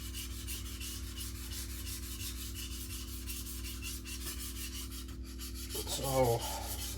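A chef's knife, a gyuto, is stroked across a whetstone, making a faint, continuous gritty rubbing over a steady low hum, with a slightly louder scrape near the end.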